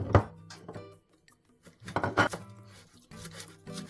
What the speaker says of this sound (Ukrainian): тож ріжу петрушку все, сир наш готовий. Нарізаємо зелень